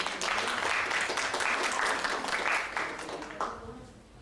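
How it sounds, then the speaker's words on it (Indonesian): An audience at a panel discussion on a just energy transition and green jobs applauds as a female academic panelist is introduced. The clapping is steady and sustained for about three seconds, then thins and fades out. "boleh berikan tepuk tangan untuk Ibu Sari Mulyani MA"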